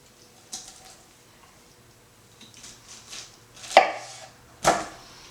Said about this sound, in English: So I'll cut it into quarters as best I can.